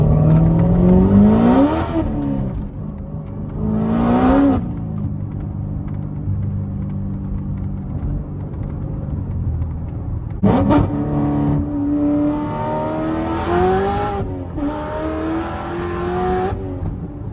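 A manual 800-hp C7 Corvette ZR1 engine revs and accelerates hard in first gear several times, pitch climbing through each pull, loud and close with brief drops between.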